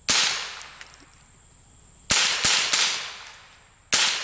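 An M4-style BB gun fires at a bone, giving sharp, close snapping cracks: one shot, then a quick cluster of three and a final shot, each decaying fast.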